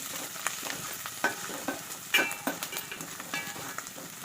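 Spices for a small-fish curry, with fenugreek seeds and powder and turmeric, sizzle and fry in hot oil in a pan. A soft, continuous crackle is broken by scattered stirring clinks, close and fairly quiet, with no talk.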